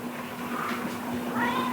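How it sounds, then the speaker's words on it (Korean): A cat meows softly up close, one drawn-out plaintive call that rises and falls, over a faint steady hum. "높은 데 좋아하는 우리 고양이"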